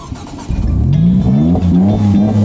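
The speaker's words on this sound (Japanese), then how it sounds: "エンジンかけてみて" A car engine cranks and catches, then revs up with rising, sweeping tones and settles into a loud, steady running note close by, with no talk over it.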